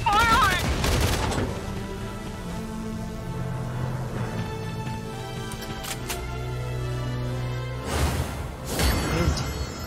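Gunfire in the strategy war game Valkyria Chronicles 4, with rapid bursts of shots and booms that rise and fall over ten seconds, heaviest at the start and again near the end.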